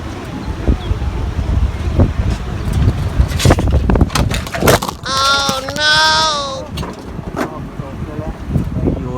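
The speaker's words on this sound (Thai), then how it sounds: "ลมแรงด้วยครับ" Strong wind buffets an outdoor microphone in steady low rumbling gusts, with scattered clunks and a brief tonal squeal partway through; it continues loud throughout.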